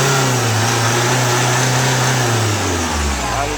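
A Chevrolet Captiva with the NFL diesel engine, hard to start and with its check-engine light coming on under sudden acceleration, revs loudly and close up. The drone holds steady, then the pitch shifts near the end.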